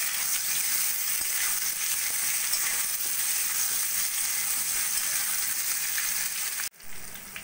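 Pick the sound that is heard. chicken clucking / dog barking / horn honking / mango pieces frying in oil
mango pieces frying in oil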